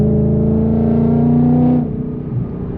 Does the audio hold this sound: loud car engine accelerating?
yes